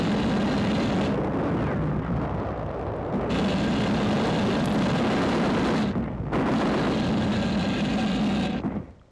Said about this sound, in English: Tank flamethrowers burning out one of the few remaining ridges where the Japs are dug in force